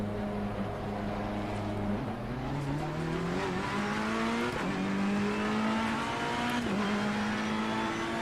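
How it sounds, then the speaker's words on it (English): A race car engine in the Assetto Corsa Competizione racing game, British GT pack, revs hard and steady, climbing through gears with brief dips at each shift, loud and continuous. "Oh, That engine is so angry."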